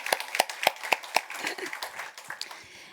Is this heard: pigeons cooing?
no